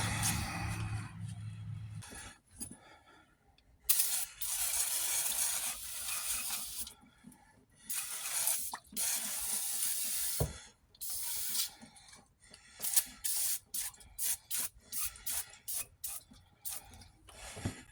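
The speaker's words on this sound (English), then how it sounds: "I'll get some brake clean and spray off that rack" An aerosol can of brake cleaner sprays in repeated hissing bursts onto a car's undercarriage, some long and some short, close by and fairly quiet, with pauses between.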